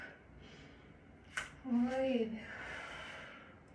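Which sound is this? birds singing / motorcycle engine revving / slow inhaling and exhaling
slow inhaling and exhaling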